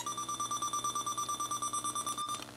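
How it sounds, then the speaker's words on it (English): A strobing LED flashlight shone onto a solar panel comes through as a steady, rapid pulsing electronic tone with a bright high whine, fairly quiet and alone. "The reason why those sound effects occur is because the LED is being pulsed really fast."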